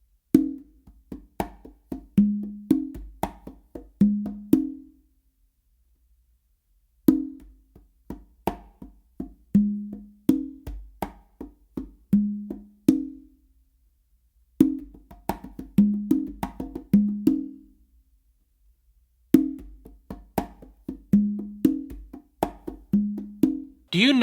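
A full modern funk groove on two congas repeats in four bursts: quick runs of slaps, mutes and ringing open tones alternating between low and high drums, close and clear, with short pauses between phrases.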